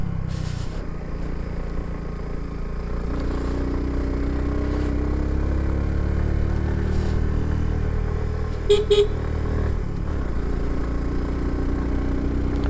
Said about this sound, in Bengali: বাইকের কোনো পাওয়ারই পাচ্ছে না